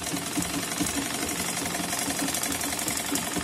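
A sewing machine stitches falls onto a slippery chiffon saree, running as a steady rapid mechanical chatter with a faint rhythmic knock, close and continuous with no talking.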